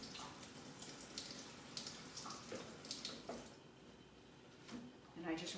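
Cabbage leaves are rinsed under running filtered water in a kitchen, with a steady faint splash and patter broken by small knocks and handling sounds, and no one talking.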